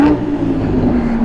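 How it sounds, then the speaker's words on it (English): Lamborghini Huracán Spyder 580 rear-wheel drive passing on a central London street, a brief loud engine drone heard close up. "That was a Hurricane Spider 580 rear-wheel drive."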